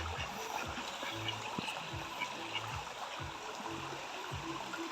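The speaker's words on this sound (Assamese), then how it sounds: "নদীৰ পাৰে গৈ আছোঁ।" A river stream flows along its bank near Basistha, Guwahati, a steady rushing wash of water with small splashes and dull knocks throughout, close and continuous.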